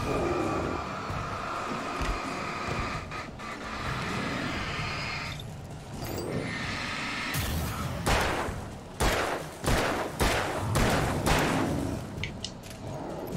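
Gunfire in the video game Alan Wake: several sharp, separate shots ring out in the second half over a steady background hum.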